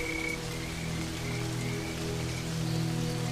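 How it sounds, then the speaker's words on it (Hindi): Sudden rain falling on the Serengeti, a steady, even hiss of drops close by with faint intermittent chirping calls above and a low hum underneath. "ये अचानक बारिश हो जाना सामान्य नहीं लग रहा।"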